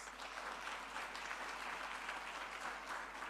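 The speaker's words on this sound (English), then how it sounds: "Can we give her a round of applause?" Steady round of audience applause at a future-of-work conference session, dense even clapping from a seated crowd, moderately loud and continuous with no talk over it.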